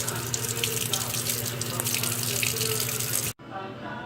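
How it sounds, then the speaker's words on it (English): Water pours steadily from a sink tap in a loud, continuous rush, then stops abruptly near the end, leaving only faint room sound. "leave the water running."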